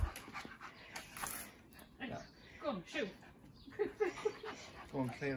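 A wet British Bulldog pants in quick, rhythmic breaths close by, with soft whimpers and a few sniffs mixed in.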